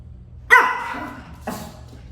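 A dog gives two sharp barks outside a house while someone tries to get in: the first loud and close, the second softer about a second later.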